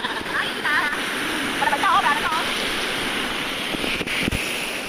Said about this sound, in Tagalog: Grabe din yung dagat oh.